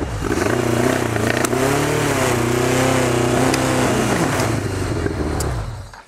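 A 37-year-old motorcycle with a rusty tank runs steadily right after firing up, its engine note wavering slightly up and down at close range before cutting off at the end.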